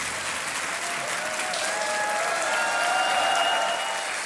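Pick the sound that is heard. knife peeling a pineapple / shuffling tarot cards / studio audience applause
studio audience applause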